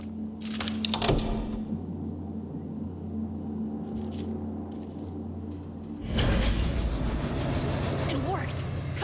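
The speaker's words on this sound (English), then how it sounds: "The arrival of the next freight train." A freight train arrives in the Cyberpunk 2077 video game, a steady low rumble with clattering and a loud surge of rolling noise about two-thirds through, under background game sounds.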